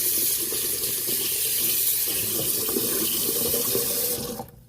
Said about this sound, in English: I'm going to let this drain.